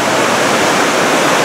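A waterfall in the Columbia River Gorge pours in a steady, full roar of rushing water, loud and close, with no break or other sound over it.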